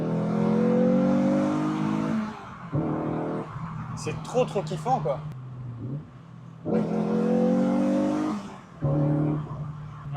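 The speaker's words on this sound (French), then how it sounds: "on a quand même fait 15 bonnes minutes de conduite sportive avec cette Clio" A Renault Clio is driven hard, its engine rising and falling in loud revving surges, broken by short gaps during gear changes, while people talk over it inside the car.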